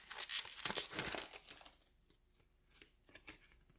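Foil wrappers of Tim Hortons hockey card packs crinkle and tear open loudly up close, followed by quieter rustling and shuffling of cards, with no one speaking.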